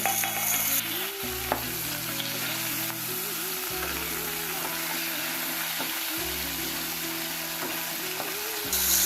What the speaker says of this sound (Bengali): ওই একই তেলে হাফ চামচ কালো জিরে ফোড়ন দিয়ে তাতে আলু আর বেগুনগুলোকে একে একে দিয়ে দিচ্ছি